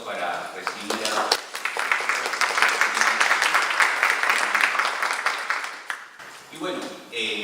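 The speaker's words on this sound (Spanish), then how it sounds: "Yo les pido, por favor, un fuerte aplauso" An audience claps in welcome for a speaker at a university event, a dense burst of applause rising after a brief spoken phrase and fading near the end, with talk resuming.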